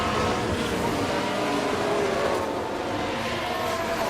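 Cadillac F1 race car in the F1 Manager 24 video game, racing at the Belgian circuit right after an overtake: a steady, loud, continuous engine roar with broad hiss, holding level throughout without a clear pass-by.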